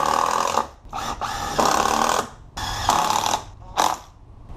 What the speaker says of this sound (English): Then I'm going to put a few 3-inch screws in